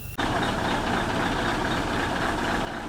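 A Scania V8 420 truck, a restored classic-cab vintage model, idles with a steady low, even rumble close by, starting abruptly and holding level throughout, with no voices.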